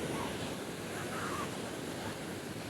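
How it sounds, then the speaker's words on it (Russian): Sea waves washing onto the beach at Tomyuk, Turkey, a constant loud roar of surf with wind buffeting the microphone and no lull. "Сегодня, конечно, волны."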